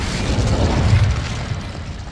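A fire spell cast in the video game Hogwarts Legacy bursts out as a deep, rumbling whoosh of flame, loud and roaring for about two seconds before easing off.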